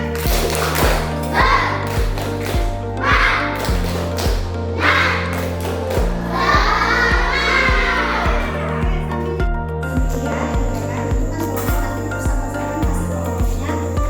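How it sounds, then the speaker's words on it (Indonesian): Schoolchildren in a classroom performing a clapping chant, rhythmic group claps in a steady pattern with chanted voices over them, loud and close. "Tepuk semangat."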